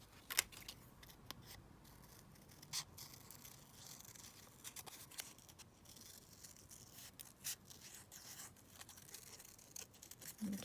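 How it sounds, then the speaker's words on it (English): Scissors cutting a piece of paper at a desk, giving faint, crisp snips scattered irregularly over a quiet background. "So I'm just going to cut this piece out here."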